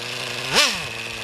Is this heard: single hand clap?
no